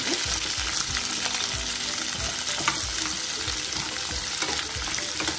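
Small sambar onions sizzle and crackle steadily in hot oil in a pan for bisibelebath, a dense, continuous frying hiss close by with occasional stirring scrapes and no talk.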